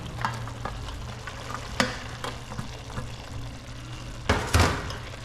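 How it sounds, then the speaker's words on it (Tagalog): Shredded tilapia frying in a pan, with a steady low sizzle, occasional stirring scrapes and a louder clatter near the end, close and without talk. "Pwede na natin ilagay ating tilapia na hinimay, tatlong piraso."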